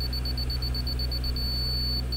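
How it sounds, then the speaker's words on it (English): A laser level receiver holds a continuous, unbroken high beep signalling it is level, steady and clear over a low background hum, with no speech. "That solid beep, that means it's perfectly level."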